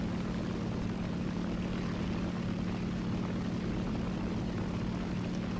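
Droning propeller engine of a Ki-44 fighter plane flying in War Thunder air arcade, a steady, even hum held throughout with no talking.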